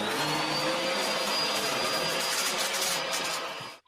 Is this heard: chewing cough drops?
no